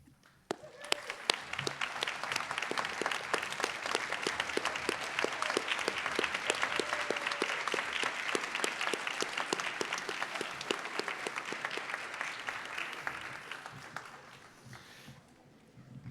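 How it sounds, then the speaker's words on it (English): Audience applause at a nursing pinning ceremony, with a large crowd clapping steadily and loudly for about fourteen seconds before it thins out and fades near the end. "please rise and applaud those in attendance tonight"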